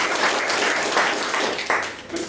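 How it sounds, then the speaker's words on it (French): Conference audience applauding after a speech, a dense, steady wash of clapping from a hall full of people, fairly loud and continuing throughout with no distinct voices. "Nous pouvons applaudir."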